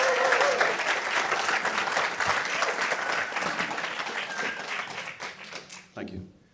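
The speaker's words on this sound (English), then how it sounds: "Please give him an introductory round of applause." A live audience bursts into applause, dense clapping from a crowd that holds steady for several seconds, then thins and fades out.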